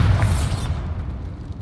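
A Bombarda spell goes off in Hogwarts Legacy as a short, loud, booming blast that fades quickly into a rumbling tail.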